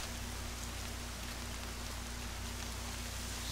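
Steady rain falls in the Horizon Zero Dawn game world, a continuous, even hiss of raindrops on surfaces with a faint low hum underneath, no voices.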